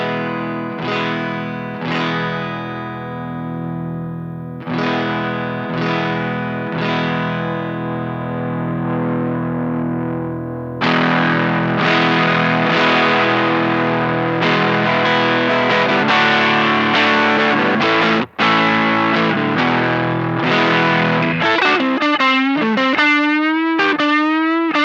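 An electric guitar on its neck pickup plays through a DIY two-transistor overdrive pedal set to heavy fuzzy distortion, strummed chords and sustained notes, loud and close, ending in bending wailing notes.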